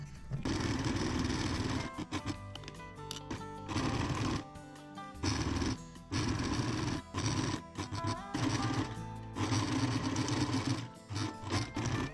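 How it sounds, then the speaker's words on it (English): A sewing machine stitches a small toy sleeping bag, running in steady dense bursts broken by short pauses, close and moderately loud with no talking. "Now we're going to take the sewing machine, we're going to sew from this little section here all around back to the other part"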